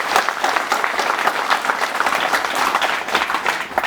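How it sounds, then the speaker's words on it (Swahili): Audience applause at a school book-donation event in Masasi: dense, continuous clapping from a large crowd, loud and close, with slight surges in intensity across the few seconds. "Mpigeni makofi ndugu zangu."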